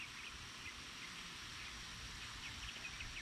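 A watering spray patters down steadily onto onion plants in a garden, a soft continuous hiss of falling water like light rain throughout.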